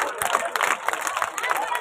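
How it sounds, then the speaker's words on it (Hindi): A crowd at an evening devotional bhajan gathering in a village claps and cheers, a brief burst of scattered applause mixed with crowd noise and voices. "लगाओ ताली एक बार जोरदार"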